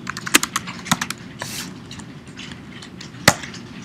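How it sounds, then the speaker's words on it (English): Quick keystrokes clatter on a computer keyboard in irregular bursts, a few sharp louder taps standing out among softer clicks, close and alone. "very quickly typing out the remainder of readme.markdown"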